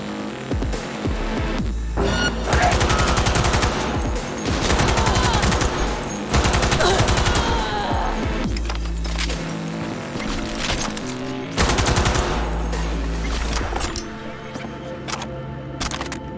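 Rapid gunfire from the video game Cyberpunk 2077, loud bursts of automatic weapons in repeated volleys over roughly fourteen seconds, tapering off to quieter game ambience at the end.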